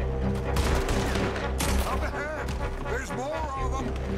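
Gunfire in Red Dead Redemption 2 crackles in dense bursts of overlapping shots throughout, loud and close under someone talking over the game's background sounds.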